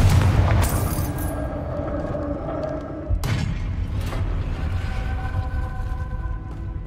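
Confringo spell explosion in the video game Hogwarts Legacy, a loud booming blast followed by sharp bursts and crackling debris over a dense rumbling game soundscape.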